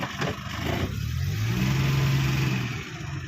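A 2010 Maruti Omni van with an MPFI engine, running on LPG and petrol, drives in gear. Its mid-pitched engine drone swells steadily and holds close and fairly loud, with no talking.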